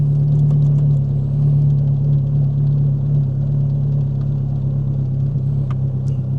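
Geo Prizm engine idling right after starting, a steady, loud low rumble close by that holds evenly throughout, with faint clicks over it.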